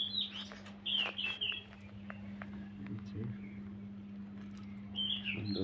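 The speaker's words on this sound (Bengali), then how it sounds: "কবুতর রাখা আছে, এটা আমার পোষা।" Pet pigeons kept at home at dawn, with soft chirpy calls and brief fluttery sounds at the start and end of the clip over a steady low hum, close by and fairly quiet.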